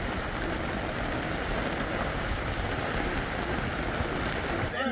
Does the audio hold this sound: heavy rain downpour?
yes